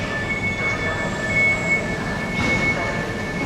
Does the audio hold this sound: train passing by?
yes